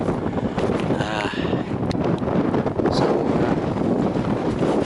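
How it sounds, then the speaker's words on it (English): Strong semi-gale wind on Harlech moorland, buffeting the microphone with a loud, continuous roar and gusty rumble; a faint voice surfaces briefly. "it's more or less a semi-gale blowing up here"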